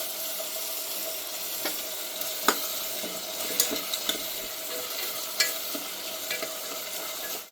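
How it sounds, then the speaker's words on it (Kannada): Mixed vegetables with capsicum fry in oil, a steady close sizzle broken by occasional spoon scrapes and taps as they are stirred. "ಚೆನ್ನಾಗಿ ಫ್ರೈ ಆಗಲಿ ಎಣ್ಣೆಯಲ್ಲಿ, ಚೆನ್ನಾಗಿ ಫ್ರೈ ಆಗಬೇಕು ತರಕಾರಿ."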